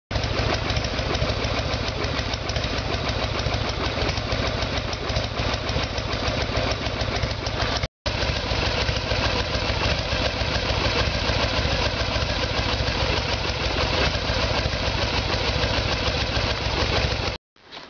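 A Harley-Davidson Evolution Sportster motorcycle with a carburetor problem runs steadily at a loud, close idle, briefly cutting out once and then dying at the end.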